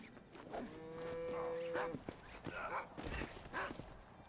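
Cattle moo in a Western-themed video game, a sustained lowing call near the start followed by shorter animal calls and scuffling steps, all at moderate loudness with a voice talking over it.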